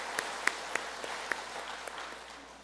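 Sparse, faint claps from a church congregation thanking the choir during a worship service, a handful of separate hand claps spaced across a few quiet seconds.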